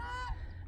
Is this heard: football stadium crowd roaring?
no